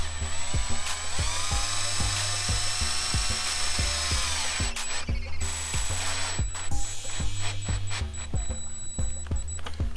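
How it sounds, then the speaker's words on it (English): Cordless drill driving screws into a plastic mount while fitting an LED auxiliary light kit to a Can-Am Ryker, a whining motor with a rapid regular clicking from the clutch, close and continuous. "Use my drill."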